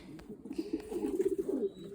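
Pigeons coo softly in a short burst, a low pulsing throaty rumble swelling and fading, faint and close with no talk.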